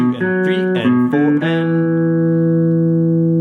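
A guitar plays an intro riff at a slow tempo, several plucked single notes leading into a long ringing final note that fades, close and unaccompanied.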